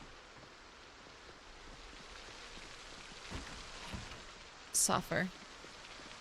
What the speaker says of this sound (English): Oh my gosh, the rain is so loud.